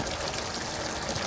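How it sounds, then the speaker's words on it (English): Water from a hose pours steadily into a barrel, a continuous close rushing and trickling with no pauses and no talk. "you want to fill your barrel about 3/4 the way with water"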